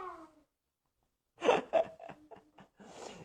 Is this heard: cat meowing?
yes